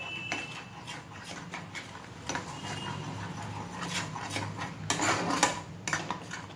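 A utensil stirs flour and butter in a pan for white sauce, with repeated close scraping and clinking strokes against the metal, steady throughout and louder toward the end.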